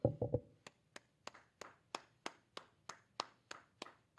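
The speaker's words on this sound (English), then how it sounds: "Clap it up, clap it up" A few quick claps open, then a single pair of hands claps in a steady, slow rhythm, about three claps a second apart, sharp and close in a quiet room during a brotherhood class.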